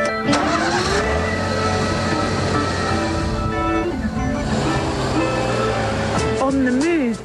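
A Mercedes-badged 1998 car's turbocharged 600cc three-cylinder engine runs loud and steady, then revs with sweeping rises and falls in pitch near the end.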